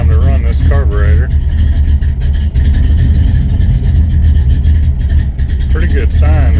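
A Chevrolet C10 engine with a newly fitted Quadrajet carburetor runs cold on choke, steady and loud, idling with slight unevenness, while a person talks over it.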